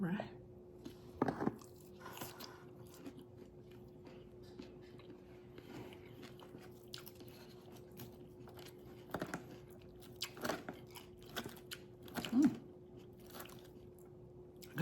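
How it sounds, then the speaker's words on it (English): Someone eats a salad of lettuce, turkey, carrots, boiled egg and bell peppers up close, with scattered crisp bites and crunches over soft chewing and a steady low hum. "enjoy the salad crunch because I'm about to get down on this"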